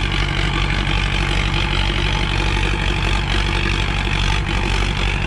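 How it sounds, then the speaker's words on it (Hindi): A Sonalika DI-750 III tractor pulling an 8x8 disc harrow runs with a steady, loud, low diesel drone that holds continuously without pause and has no talk over it. "सही चल रहा है ट्रैक्टर का"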